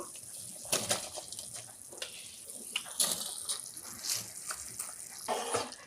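Water in a cooking pot comes up to the boil, with irregular bubbling, gushing and splashing bursts at close range and no talk over it.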